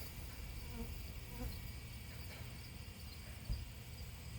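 Honeybees from a shook swarm being hived buzz in a steady, low drone close by, continuous throughout with slight swells, no voices present.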